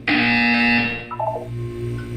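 A single loud, harsh electronic buzzer from a Portal-style video game blares for about a second, followed by a few brief electronic tones, fading into a low hum.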